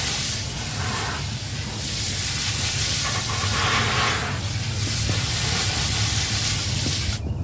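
Water spraying steadily onto soil in a cardboard box planted with potatoes, a continuous close hiss with no breaks, ending in a brief brighter burst of spray.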